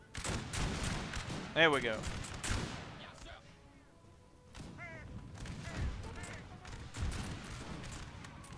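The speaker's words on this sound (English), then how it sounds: "Now open fire on the Prussians." Musket volley fire against Prussian troops in the Napoleon: Total War battle game, a scatter of sharp crackling shots in two bursts with a quieter gap between, under brief talk.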